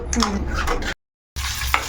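Loud, close sizzling of curry leaves and dried red chilies hitting hot oil with stirring clatter, broken by a brief silent gap before the crackling resumes.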